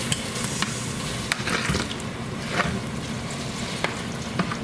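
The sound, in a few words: macaroni being mixed into melted butter in a pot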